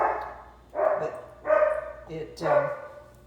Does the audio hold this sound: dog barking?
yes